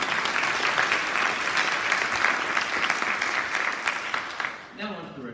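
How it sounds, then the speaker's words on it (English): Applause at a senior honors night: a roomful of clapping hands, steady and moderately loud, dies away near the end as a voice begins speaking. "Round of applause for them."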